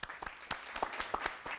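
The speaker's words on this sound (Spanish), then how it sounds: "Muy bien, aplauso para Ricardo." Audience applause for a contestant named Ricardo at a quiz contest, a short, fairly faint burst of individual claps with distinct sharp hits, no talk over it.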